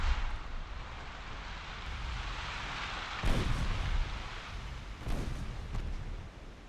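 Battleship guns fire in a naval battle in the Ultimate Admiral Dreadnoughts game, with two distant, muffled booms rising out of a constant rumbling, rain-like background roar, with no talking.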